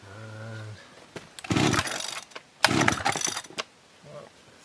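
Attempts to start a Kawasaki THS 26 petrol strimmer: two sharp pull-cord bursts sputter briefly without catching, with a short tonal hum beforehand and quiet gaps between pulls.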